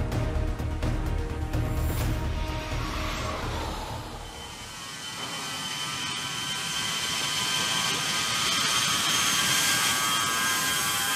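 Jet engines of an A-10 aircraft roar steadily beside a highway used as a runway, a loud sustained rushing whine that dips briefly near the middle and then swells again, with no talking.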